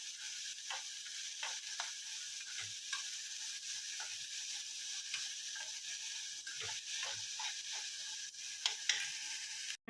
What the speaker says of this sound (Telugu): ఒక 10 మినిట్స్ దాకా వేపుకుంటే చాలండి